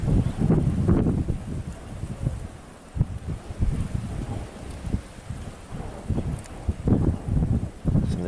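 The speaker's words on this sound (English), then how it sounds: "The wind blowing the fire, spreading it incredibly quickly now" Gusty wind roars over a spreading wildfire in hot, dry Cyprus countryside, a steady low rumble with crackling bursts and rustling surges rising and falling throughout.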